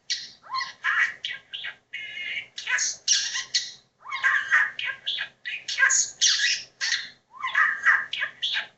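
Pet bird squawking indoors, a run of harsh, raspy squawks and chirps in quick irregular bursts, close and fairly loud, with no other sound underneath.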